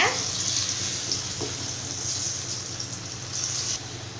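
A steady, close sizzle and hiss of lentil balls deep frying in hot oil, continuous throughout with no talking.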